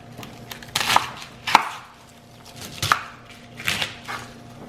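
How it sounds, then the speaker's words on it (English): A knife chops cabbage into squares on a cutting board, with about five sharp, irregular thuds and crunches over a few seconds and no talking. "we got all our cabbage cut into squares now"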